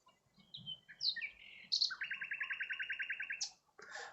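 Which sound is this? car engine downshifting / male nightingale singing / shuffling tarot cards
male nightingale singing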